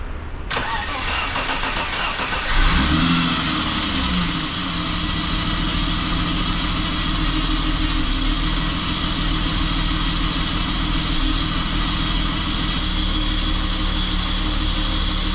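BMW E30 engine cranking briefly, then catching and settling into a steady, loud, close idle with an even mechanical drone and no talk.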